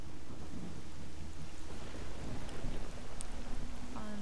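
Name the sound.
rain and thunder in a video game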